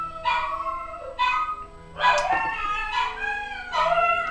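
Dogs howling and yipping together in a series of long wavering cries, several separate bursts close by and fairly loud, with short pauses between them.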